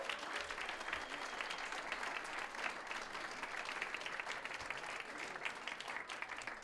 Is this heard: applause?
yes